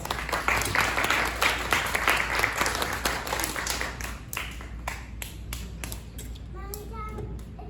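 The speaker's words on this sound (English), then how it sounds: "Big round of applause." Audience applause at a puppet show of Dickens' A Christmas Carol, loud at first and then thinning into scattered individual claps, with a voice briefly audible near the end.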